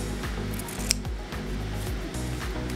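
Pinking scissors snipping through fabric, a quick series of faint, crisp crunching cuts repeated rhythmically over a low hum.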